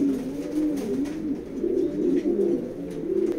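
Maxi racing pigeons in a loft coo steadily with soft, repeated rolling calls, close and clear, with no talk.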